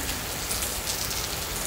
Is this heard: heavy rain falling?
yes